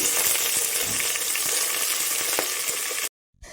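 Loud continuous sizzling of a hot sambar tempering as cut vegetable pieces go into the pan, crackling steadily for about three seconds before cutting out abruptly, then a brief faint clatter.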